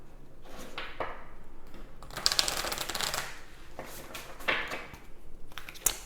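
A deck of oracle cards is given a thorough shuffle, with soft, close riffling and flapping bursts rising and falling over a few seconds and no talking.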